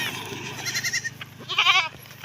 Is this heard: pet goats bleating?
yes